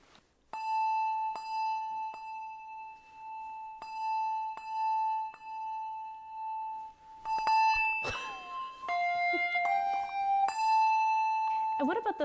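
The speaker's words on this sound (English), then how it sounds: "bells are so associated with the holidays and the magic and sometimes the mystery of the sound" Holiday bells played as a musical instrument ring out in a simple counted tune: clear, sustained struck tones that start one at a time, then overlap and layer into several ringing pitches near the end.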